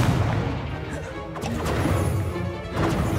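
A fire spell cast in the video game Hogwarts Legacy crackles and bursts amid a dense wash of game effects, with a sharp hit near the middle and steady loud rumble throughout.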